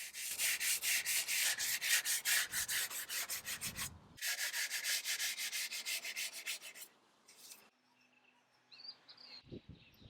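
Wood veneer is sanded by hand in rapid, rhythmic back-and-forth strokes, close and steady, with a brief pause midway and then quieter handling noises.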